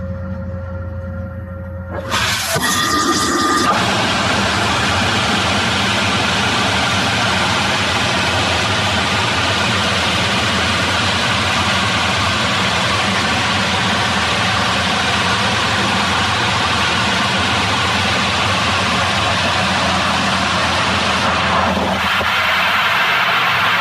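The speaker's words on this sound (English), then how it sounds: "The next video shows the engine test," A rocket engine roars loudly and steadily through a static test in the Shetland Islands, starting abruptly after a quiet moment and running continuously for about twenty seconds before cutting off.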